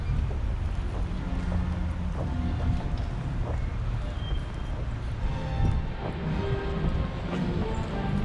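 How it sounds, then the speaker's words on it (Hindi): A toy train rumbles steadily along at the Prater amusement park in Vienna, a continuous loud mechanical rolling drone with faint clanks, heard close by in an outdoor fairground setting. "टॉय ट्रेन है"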